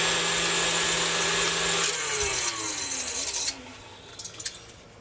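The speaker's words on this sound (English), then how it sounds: "now I just added the eggs, and now we're just going to keep mixing a little bit more" Electric mixer beating butter, sugar and eggs into figgy pudding batter: a steady, loud motor whine that winds down partway, followed by a few light knocks and clatters.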